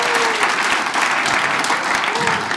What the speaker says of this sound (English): Married people, round of applause